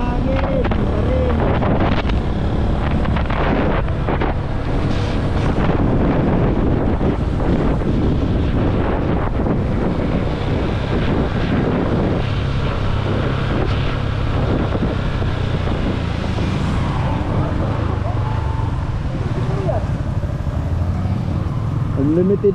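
Strong, constant wind buffets the microphone along a winding road through mountains, a loud rumbling roar that barely lets up across the whole stretch, with faint voices under it.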